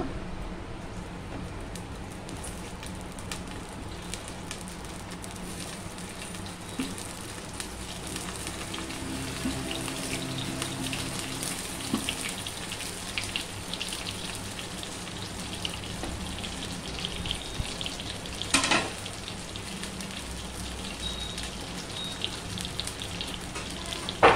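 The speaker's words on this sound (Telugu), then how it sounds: "వేరుశనగ నూనె వేసుకొని ఆ ఫిల్ చేసినవి అన్నీ అందులో వేయాలి. ఫిల్ చేసిన వంకాయలు అన్నీ వేస్తున్నాను అందులో." Stuffed brinjals fry in peanut oil in a pan, giving a soft, steady crackling sizzle with scattered pops and one sharper clatter, faint and continuous with nobody speaking.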